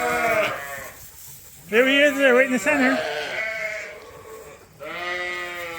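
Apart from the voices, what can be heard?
sheep bleating while being fed grain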